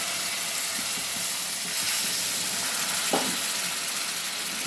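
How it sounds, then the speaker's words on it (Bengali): Water poured into a hot pan of frying eggs and potatoes, giving a steady broadband sizzle with a brief louder hiss and splash partway through. "এবার আমি এতে জল দিয়ে দিচ্ছি।"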